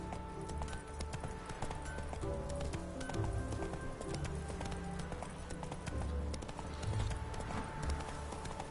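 Roach the horse galloping in The Witcher 3 video game, rapid rhythmic hoofbeats clip-clopping steadily throughout, close and continuous over game ambience.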